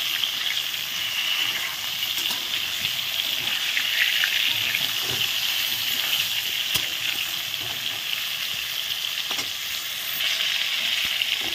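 Pointed gourd (potol) pieces fry in hot oil with a steady, close sizzle while being stirred, with occasional soft scrapes and clicks throughout and no talking.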